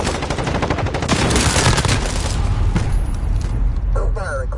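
Video game gunfire, a loud rapid automatic rattle of machine gun bursts with booming impacts layered over busy battle noise, continuous throughout, with a voice briefly heard over it.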